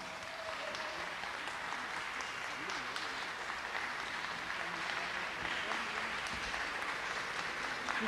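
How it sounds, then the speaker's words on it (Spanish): Audience applause at a comics conference featuring Will Eisner, a broad, steady wash of clapping heard somewhat distant and even throughout, with faint crowd murmur beneath. "Un fuerte aplauso para él"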